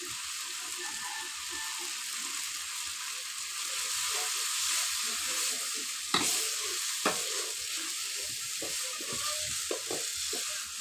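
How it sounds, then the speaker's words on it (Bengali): Spices fry quietly in a pan for a vegetarian soybean, paneer and potato dish, a faint steady sizzle with a few scattered clicks and scrapes that grow slightly busier toward the end. "এই দেখুন মশলাগুলো ভাজা হয়ে গেছে"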